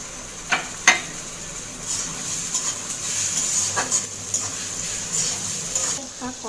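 Shrimp seasoned with salt and turmeric go into a pan of softened onions and fry with a steady, moderate sizzle, with a few sharp clinks of a utensil against the pan near the start.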